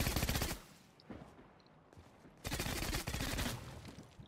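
Automatic gunfire in the Fortnite video game: rapid sprays of close, loud shots in two long bursts split by a short lull with scattered single shots.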